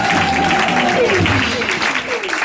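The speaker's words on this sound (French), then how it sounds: "put your hand together for God" Applause rises from the congregation at a church celebration, clapping under a voice that speaks and sings over it with sliding tones, loud and close throughout.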